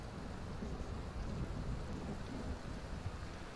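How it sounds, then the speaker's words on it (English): Steady rain falls in the Skyrim video game, a dense, continuous hiss with a low rumbling undertone throughout. There is no talking. "Where I'm now, it rains a lot more, and the area is much greener."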